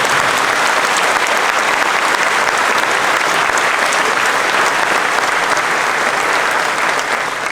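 A big convention crowd at the Eurofurence 26 closing ceremony breaks into loud, sustained applause, a thick unbroken roar of clapping that stays at full strength from start to finish.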